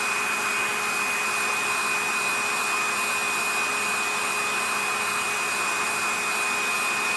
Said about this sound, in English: I'm just going to take a blow dryer and run it, just heat them up a little bit.